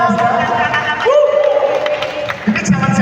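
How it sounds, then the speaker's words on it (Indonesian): An audience at a film press conference and meet-and-greet applauds and cheers for actress Nadila Ernesta, a dense crowd roar of clapping and whoops that swells, dips briefly, then rises again, with a voice talking over it. "tepuk tangan dong untuk Nadila Ernesta"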